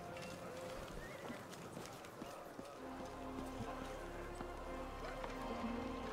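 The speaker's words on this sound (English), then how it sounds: "Look, horses." Horses from the fantasy RPG Pathfinder: Wrath of the Righteous trot with steady clip-clop hoofbeats, moderately loud and continuous against an ambient game backdrop, with a faint rain-like texture.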